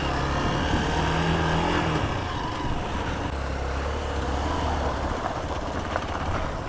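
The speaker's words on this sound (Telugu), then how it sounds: "చూడండి ఎన్ని బైక్స్ ఉన్నాయో." Several motorcycle engines idle and rumble nearby in a steady drone on an off-road trail at Koheda Gutta, one revving briefly near the start.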